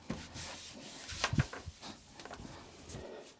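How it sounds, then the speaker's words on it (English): Soft rubbing and light scrubbing of a microfiber cloth across a washing machine door, close up, with a few small bumps and no speech. "just give it a wipe over with the microfiber cloth"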